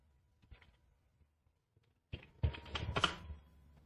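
Keys tapped on a computer keyboard while entering payroll figures into an Excel sheet: a few faint, sparse clicks, then a louder close burst of quick keystrokes, with no voices.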